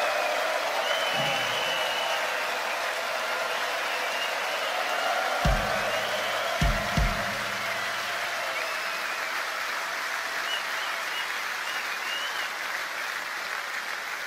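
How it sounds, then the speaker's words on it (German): A large open-air rock concert crowd at the Lausitzring applauds, a dense, sustained wash of clapping and cheering that carries on evenly throughout, with a few low thumps partway through. "Einen fetten Applaus"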